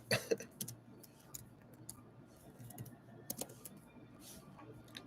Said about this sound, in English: Oh, look, she's typing.